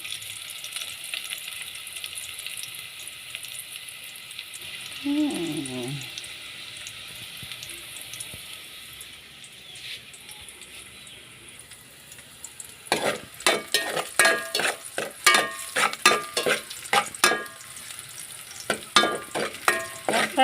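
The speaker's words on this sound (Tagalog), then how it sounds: "magigisa tayo ng patola na may sardinas at miswa" Sponge gourd (patola) with sardines and miswa cooks in a pan, starting with a low hiss and running water, then moving into loud, rhythmic scraping and stirring clatter with sizzle underneath.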